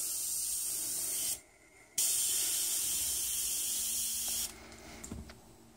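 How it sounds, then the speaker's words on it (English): Airbrush hooked to a California Air Tools 2010A compressor, with the regulator set to about 25 psi, hissing steadily and loudly, broken by one brief pause, then dropping to a quieter hiss near the end. "Got my airbrush hooked up to it."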